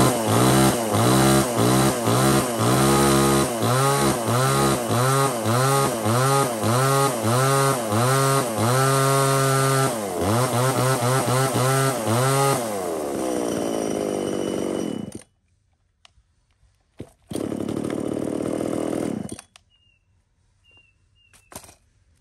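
A 33cc chainsaw with a 35 cm bar runs at high revving whine, cutting through wood about 20 cm across, loud and close, then cuts off, followed by short idle bursts and a brief rev before quiet.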